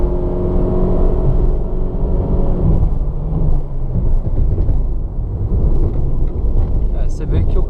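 A Honda Fit 1.5 with a CVT accelerates in Sport mode, heard from inside the cabin as a loud, steady engine drone and road rumble that holds throughout with no talk.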